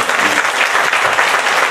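Steady, dense applause from a church congregation thanking the pastor after a devotional worship service, loud and continuous without pause.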